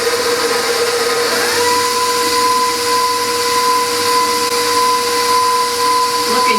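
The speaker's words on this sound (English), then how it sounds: "I put all the chocolate mixture in with the eggs and the sugar, and I'm gonna mix that till it's all blended" An electric mixer blending a chocolate mixture with eggs and sugar for double chocolate espresso cookies: a loud, steady motor whine runs continuously and close, rising to a higher pitch partway through and holding there.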